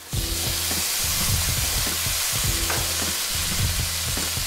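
Tomatoes dropped into a pan of sizzling curry spices for an Iraqi herb-sauce fish dish, a steady loud frying hiss with repeated stirring scrapes and clinks up close.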